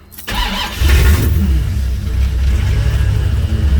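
A C4 Corvette engine cranks briefly on a cold morning start, catches and roars to life, then settles into a steady, rough idle close by.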